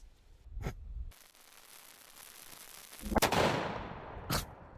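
An 8-bore black powder gun fires a 900 grain lead ball: a heavy boom with a long, rolling rumble that decays slowly, then further sharp cracks and bursts. No one talks.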